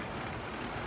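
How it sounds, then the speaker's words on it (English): Rain falls outside while wind blows, making a dense, steady hiss with low gusty rumble underneath, moderately loud and continuous, with no voices. "It's raining, y'all. If y'all can't tell, y'all can probably hear it."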